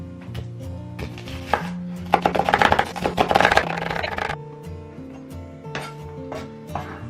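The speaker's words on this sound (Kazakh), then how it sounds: "Ол үшін мен 2 пиязды майдалап тураймын." Two onions get chopped finely on a board: a run of quick, crisp knife knocks speeding into a dense flurry mid-way, then slowing to scattered taps, close and clear amid faint kitchen clinks.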